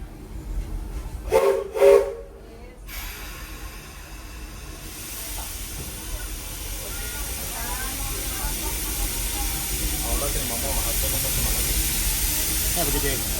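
A Walt Disney World Railroad train at Magic Kingdom rolls along with a steady rumble and hiss. A few brief sharp bursts come early, and faint voices sound in the background.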